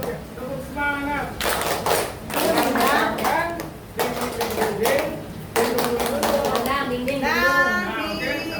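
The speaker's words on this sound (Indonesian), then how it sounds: "Oke, satu, dua, tiga. Tepuk semangat." Group clapping the rhythmic 'tepuk semangat' pattern in a classroom-style setting, bursts of sharp claps in a set rhythm mixed with voices chanting along.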